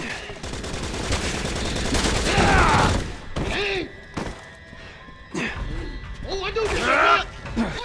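Enemy gunfire crackles in Resident Evil 6, with bursts of shots, impacts and crashes coming in uneven clusters, some loud and some quieter, while a player talks over the game sounds.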